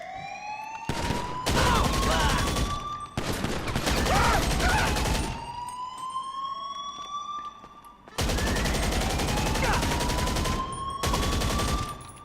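Sustained bursts of rapid automatic gunfire from a magazine dump in GTA Online, three long loud volleys separated by short gaps, with a police siren wailing underneath.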